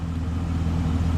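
Car engine revving up in Ultimate throttle mode after an aftermarket throttle controller install, a steady close low rumble holding at high level throughout with a brief surge of engine note.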